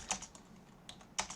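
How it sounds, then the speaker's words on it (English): Light typing on a computer keyboard: a few quiet, scattered keystroke clicks over about a second. "I cannot type right now, sorry about that."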